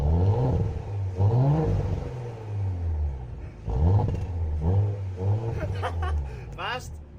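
A car engine is revved several times, each blip climbing and falling in pitch over a loud, close rumble, with voices and laughter mixed in toward the end.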